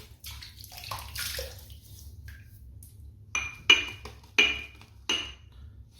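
Water is splashed onto a face at a sink before a wet shave with a Rockwell 6S razor, giving several separate wet splashes and drips with a few light clinks, fairly close and with no talking.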